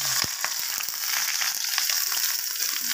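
Sliced onions drop into a pot of chicken and radish, bursting into a loud, steady sizzle of hot oil with small crackles and pops throughout.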